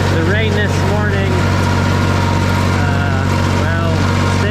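A hay-mowing machine's engine drones steadily and loudly up close in an open field, a constant low hum throughout, with faint higher tones wavering above it.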